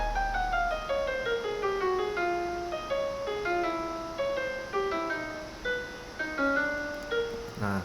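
A jazz saxophone solo plays as a continuous, melodic line of clear sustained notes with a steady rhythm over light accompaniment, loud and alone.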